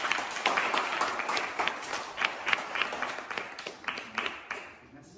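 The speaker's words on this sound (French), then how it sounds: "un tonnerre d'applaudissements" A stand-up comedy audience gives a sustained round of applause, dense clapping running steadily throughout before thinning and fading near the end.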